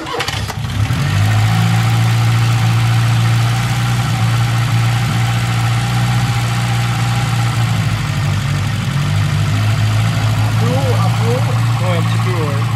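A Peugeot 205 car engine cranks and catches, then settles into a steady loud idle with a low rumble, while people talk nearby.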